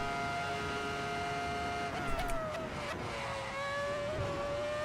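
A Ferrari race car engine in the Assetto Corsa driving game, played in VR, holds a steady high whine that dips in pitch midway and then settles, alone and unbroken.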